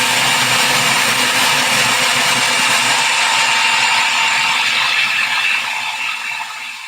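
A food processor runs on low while oil is streamed in to make muhammara, a loud continuous whirring motor drone with a gritty rattle that holds steady and then tapers slightly toward the end.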